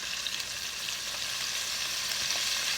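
Salt and pepper prawns sit fully submerged in oil over medium-high heat, giving off a continuous, close frying hiss with faint crackles throughout and no voices.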